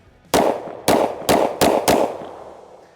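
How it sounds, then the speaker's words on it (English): Five loud, sharp gunshots from a Daniel Defense H9 pistol fired outdoors at a steady, slightly irregular pace, each crack trailing off in a short echo. "The pistol shoots good."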